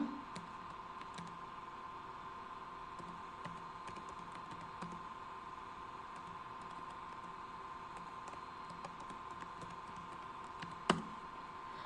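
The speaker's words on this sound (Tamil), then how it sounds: "ஸோ அகெயின் உங்களோட ப்ரைமரி இமெயில் ஐடி டைப் பண்ணிக்கோங்க." Steady light clicking of fingers typing on a computer keyboard, an email address being entered, continuous and fairly quiet over a constant background hum, with one sharper tap near the end.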